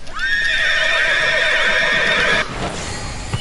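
A summoned horse in an MMORPG video game lets out a loud, close whinny lasting a couple of seconds, then breaks off into quieter game sounds.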